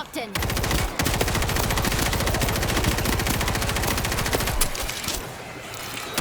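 Rapid automatic gunfire from the zombie shooter World War Z in its Marseille Missile Command mission, a dense, steady machine-gun stream of close, loud shots running almost continuously, easing slightly near the end.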